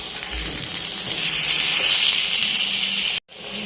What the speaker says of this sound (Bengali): এখন একটু বেগুন ভাজা করে নিচ্ছি।